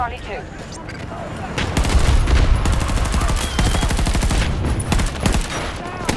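Rapid gunfire from Battlefield 2042, dense bursts and volleys of shots crowding together over a few seconds, loud and continuous, with scattered speech underneath.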